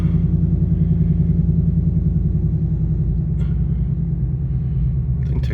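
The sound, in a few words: Ford Mustang Bullitt exhaust rumble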